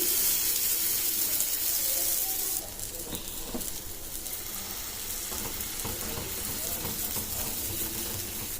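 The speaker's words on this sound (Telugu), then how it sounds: "ఇప్పుడు మనము పెనం పైన పరోటాలు వేసుకుందాము." Cabbage paratha with sesame seeds sizzles on a hot pan with a continuous bright frying hiss, loud and close, which eases slightly partway through as faint kitchen clatter joins in.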